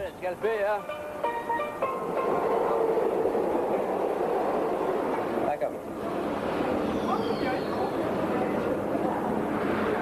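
A subway train rumbles steadily in an enclosed space, with a broad roar and some squealing, while people talk briefly near the start.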